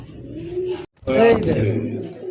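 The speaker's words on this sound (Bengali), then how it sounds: "এটা হচ্ছে ইরানি একটা হাইপ্লার কবুতর" An Iranian highflyer pigeon gives a low, close coo, with someone speaking in the same moment.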